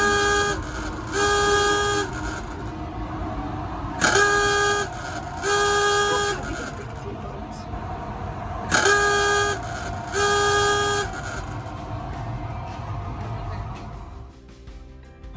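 The dive alarm aboard the USS Blueback submarine sounds as a loud, honking horn in four evenly spaced blasts, two pairs with a pause between them, inside a noisy enclosed space.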